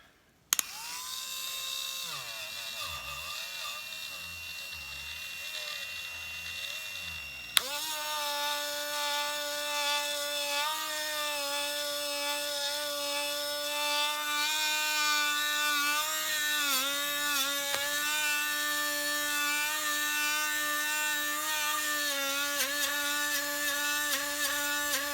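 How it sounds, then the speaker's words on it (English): A Dremel rotary tool whines steadily while polishing metal parts of a Hoover 725 vacuum cleaner, shifting to a higher, louder pitch partway through and holding it with slight wavering, close and continuous. "And go over it with the Dremel."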